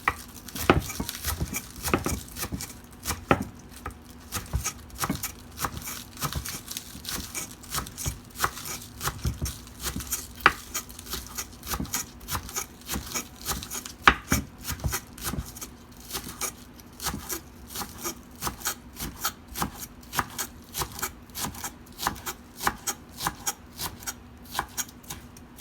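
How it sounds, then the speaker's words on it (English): A knife chops onion and cilantro on a board in a home kitchen, making a long run of quick, fairly regular taps. The close, dry clicks are fairly quiet and continue without speech. "now is the time we should chop this onion and cilantro"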